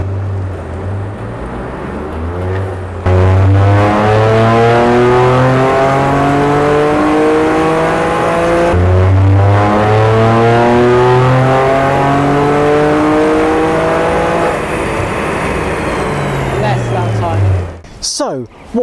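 A Toyota GR Yaris engine revs hard in a power test, climbing through the gears in long rising sweeps with brief dips at each shift, loud and close throughout.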